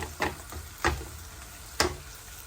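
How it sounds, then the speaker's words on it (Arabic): Onions frying and caramelizing in a pan give a soft, steady sizzle, broken by three sharp clattering bursts from stirring. "هاي البصله بدات كتعسل مازال كما كتشوفوا"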